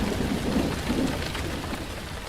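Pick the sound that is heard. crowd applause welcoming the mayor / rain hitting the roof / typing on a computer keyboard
rain hitting the roof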